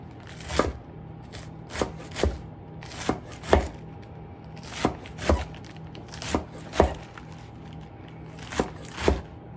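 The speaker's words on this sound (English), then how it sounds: "Roll up your lettuce. Cut some strips. Just cut it straight down." Knife chopping rolled-up lettuce into strips for a pico and guacamole dish, about a dozen crisp, close cuts in uneven bursts against a board, no talking.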